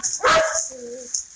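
A single sharp dog bark right up close, followed by a short whine-like tail, on a cattle ranch setting with a voice nearby.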